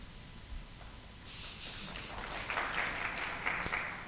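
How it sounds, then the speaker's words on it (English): An audience at an APNIC 40 policy meeting claps faintly and distantly in a short patter of applause that starts after a quiet moment and continues under a low background hum. "And I heard some claps as well."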